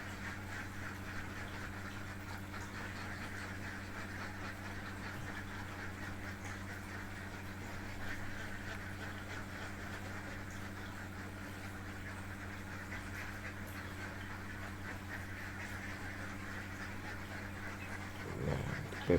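A flock of laying ducks in a dry-litter pen quacking steadily, a dense chorus of overlapping calls at moderate distance over a constant background hum.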